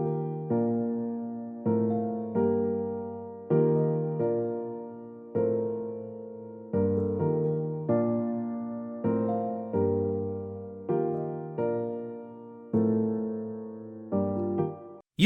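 Layered piano chords from the Kontakt Gentleman virtual piano in a progressive house breakdown, a slow progression of sustained struck chords, each ringing and fading before the next, played alone and fairly loud.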